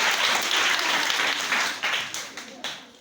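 Church audience at a disciples' training session bursts into loud applause, dense clapping that holds steady and then tapers off in a few scattered final claps.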